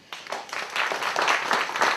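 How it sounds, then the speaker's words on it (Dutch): Applause from an audience greeting a speaker at a testimonial event, a steady crowd clapping that swells and holds for a couple of seconds. "Een applaus voor haar."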